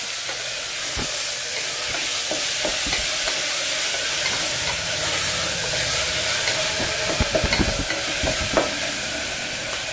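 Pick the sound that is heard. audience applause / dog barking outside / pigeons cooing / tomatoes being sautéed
tomatoes being sautéed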